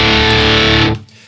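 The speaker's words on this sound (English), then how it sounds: "So let's turn on the distortion." Heavily distorted guitar tone from a Revv G4 amp plugin running in Logic Pro, a loud dense sustained chord that rings for nearly a second and then cuts off abruptly to near silence.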